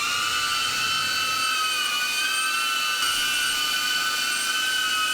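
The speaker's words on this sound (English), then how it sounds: "let's start with the Avata 1, and we're just gonna bring it into a hover." DJI Avata 1 drone on stock propellers holding a steady hover nearby, a loud continuous high-pitched whine with stable tonal bands and no pauses.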